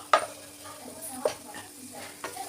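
Tomatoes go into onion paste frying in a pan for Telugu fish curry (chepala pulusu), with a soft steady sizzle and three brief spoon-against-pan scrapes and clinks as it is stirred.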